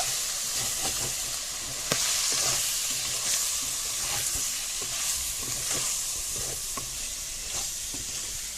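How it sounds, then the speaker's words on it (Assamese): Chicken fries with spices in a pan, a steady close sizzle broken by regular scraping and clinking as it is stirred, with no voices. "মছলাখিনি দিয়াৰ পাছত ভালদৰে ভাজি ল'ব।"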